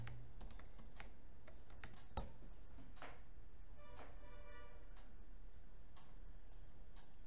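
Faint clicks of a computer keyboard as commands are typed, irregular taps in short runs spread across the whole stretch with no voice.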